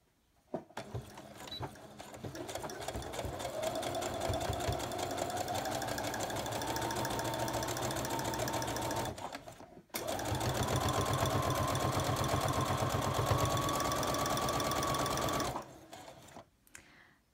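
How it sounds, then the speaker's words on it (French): A domestic sewing machine stitches an invisible zip in two long, steady runs of rapid mechanical chatter, close and fairly loud, separated by a brief pause and ending with a short stop-start. "Vérifiez quand même toujours que votre aiguille de machine à coudre ne va pas taper dans le, dans le fer hein, de votre pied."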